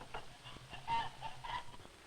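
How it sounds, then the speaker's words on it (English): Rhode Island Red chickens on a 1948 poultry farm cluck in short, scattered bursts, a few moderately close calls over a quiet background. "His chickens are Rhode Island Reds."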